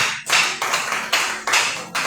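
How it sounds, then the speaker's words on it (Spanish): A church congregation claps loudly and steadily, a dense burst of applause with a few short dips, close and without talk. "Denle un fuerte aplauso al Señor."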